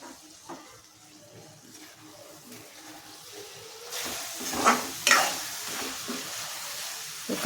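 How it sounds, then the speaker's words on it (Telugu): Cucumber and dried fish curry cooks in oil with chili powder, a soft sizzle rising partway through, with a few close scraping stirs of a utensil in the pan. "కారం వేసిన తర్వాత ఒక 2 నిమిషాలు మనం ఇలాగే ఆయిల్లో మగ్గిచ్చేసి ఆయిల్లో ఇలాగే మగ్గనివ్వాలండి"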